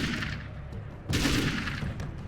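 Automatic weapon fire from the video game Alan Wake's American Nightmare, a dense burst of rapid shots that swells louder midway and continues steadily to the end.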